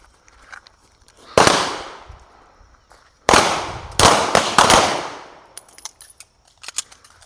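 Handgun shots ring out on an outdoor range during a shooting drill: four loud, sharp reports with echoing tails, then a quicker string of fainter pops and clicks.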